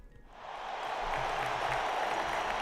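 Applause from a crowd in the video game Radiant Tale, swelling in from near silence to a steady, even wash of clapping that stays moderately loud throughout.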